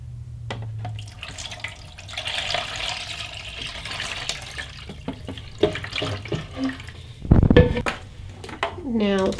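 Water is poured into an indoor Fafagrass hydroponics unit, a steady run of splashing with light plastic clatter and a louder gush near the end, close by.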